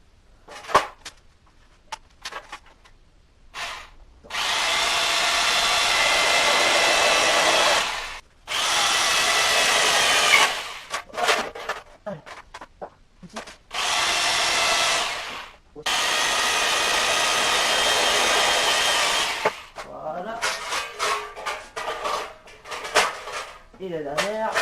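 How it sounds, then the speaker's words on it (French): A power drill bores holes through a wooden board while building a weathervane, four long loud whining bursts separated by short pauses, close up, with a person talking between the runs. "maintenant que j'ai percé tous mes trous"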